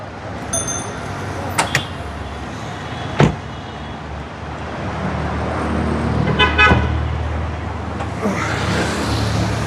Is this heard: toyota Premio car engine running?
yes